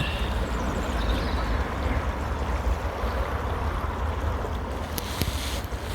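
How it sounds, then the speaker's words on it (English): Raging floodwater on the River Avon rushes around a narrowboat, a loud continuous roar with wind buffeting the microphone and a few brief clicks near the end, no voices. "we've got a raging torrent."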